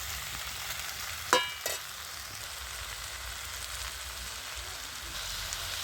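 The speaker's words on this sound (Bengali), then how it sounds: "সেই জিরা সর্ষে বাটাটা দিয়ে দিচ্ছি আমি" Cumin-mustard paste is added to cauliflower stalks frying in a pan, giving a soft, steady sizzle throughout with a brief clatter near the start.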